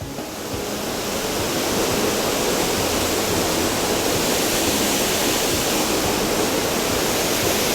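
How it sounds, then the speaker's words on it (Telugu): A steep, dangerous waterfall roars nonstop close by. Its dense, even rush of falling water stays loud and unbroken throughout, with no voices. "వాటర్ ఫాల్స్ సూపర్గా ఉన్నాయి."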